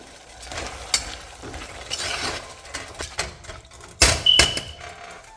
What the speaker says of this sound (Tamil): இப்போ இதை கிண்டி விட்டுக்கலாம்.